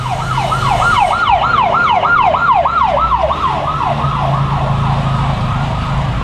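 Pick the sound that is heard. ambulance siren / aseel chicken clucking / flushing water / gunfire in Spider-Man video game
ambulance siren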